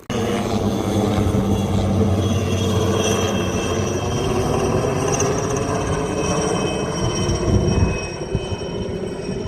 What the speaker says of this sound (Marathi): जेट समोर लँड व्हायला चालले.